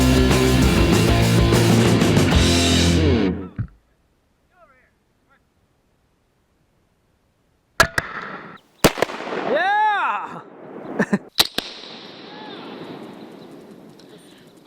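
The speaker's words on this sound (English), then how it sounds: "Dude, that was a huge explosion." Two sharp, loud blasts of shot Tannerite targets break a quiet stretch after music cuts off, followed by a whooshing rumble, further bangs and excited voices.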